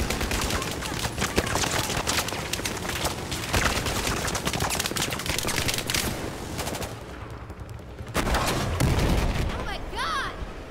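Sustained automatic gunfire and scattered explosions from the video game Battlefield 4, loud and continuous for most of the stretch, briefly dropping before another heavy burst, with a voice shouting over it.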